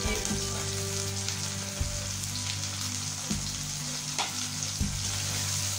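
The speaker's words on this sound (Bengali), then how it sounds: "পটলগুলো খুব ভালো করে লাল করে ভেজে নিতে হবে" Cut pointed gourd pieces fry in hot oil with onion and spices, a steady close sizzle with periodic sharp scraping clatters as they are stirred, and no voices.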